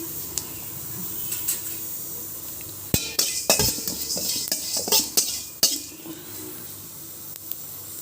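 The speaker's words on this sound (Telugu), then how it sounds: "ఇదండి జీలకర్ర మెంతులు లైట్గా వేయించుతున్నాను చూడండి" Cumin and fenugreek seeds lightly roasting in a pan while making sesame, green chili and gongura chutney, with scattered metallic clinks and scrapes of a utensil against the pan over a soft background hiss, busiest in the middle stretch.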